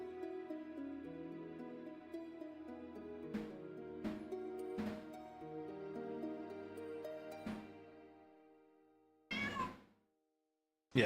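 A pet cat gives a close, clear meow near the end after a stretch of quiet background music with soft knocks, and no one speaks.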